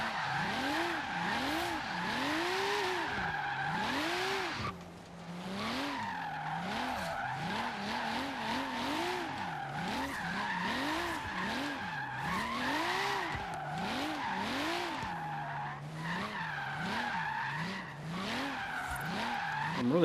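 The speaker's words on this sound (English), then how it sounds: "now wants to initiate a drift just with throttle. I'm not having to clutch it or anything." A Volvo 850R drifting in Forza Horizon 3, its engine revving up and down in wavering sweeps while tires squeal and skid almost continuously, loud and close with no talk.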